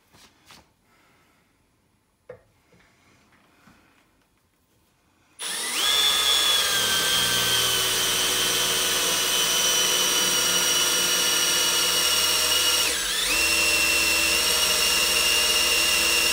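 A quiet room with faint clicks gives way to a Milwaukee M12 1/2 inch hammer drill/driver boring a 3/8 inch hole with a new bit. It whines loudly and steadily, with one brief dip in pitch, and nobody speaks.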